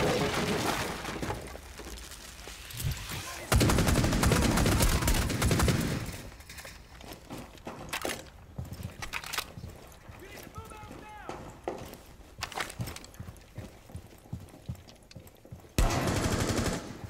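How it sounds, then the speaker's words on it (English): Bursts of gunfire in Rainbow Six Siege come through a wall, with heavy rapid volleys early and late and scattered sharp shots in between, heard under talk and game noise. "They're shooting through the wall. They are literally shooting through the wall."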